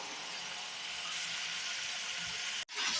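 Green chillies fry in hot oil with a steady close hiss, stirred in the pan, before a sudden brief break and a louder burst of sizzling at the end.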